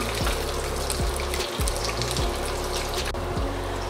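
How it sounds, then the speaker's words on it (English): Continuous sizzling and bubbling of tofu frying in hot oil, steady and close, with occasional soft pops and no voices. "they are frying"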